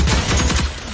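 Rapid MP40 submachine gun fire in the video game Rogue Company, a loud, close burst of repeated shots in quick rhythm lasting about a second.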